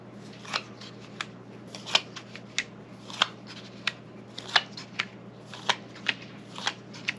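Tarot cards are handled and laid out, giving a series of crisp, close card snaps and slaps at a steady, unhurried pace, each one distinct and separated by quiet.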